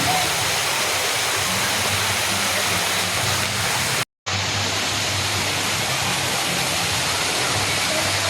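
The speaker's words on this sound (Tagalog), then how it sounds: "Dito lumalabas yung tubig na galing sa swimming pool." Water pours steadily out of a swimming pool outflow near a small bridge at a beach resort, a loud continuous rushing splash close by, cut by a brief dropout midway.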